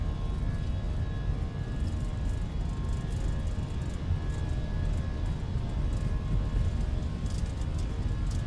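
Jet engines of a United Airlines airliner during takeoff and climb give a steady, dense, loud roar with low rumble that continues unbroken throughout.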